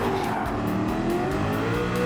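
Race car in Gran Turismo 7 nearly spinning out, a loud continuous engine drone with tire noise and fluctuating revs, no voices.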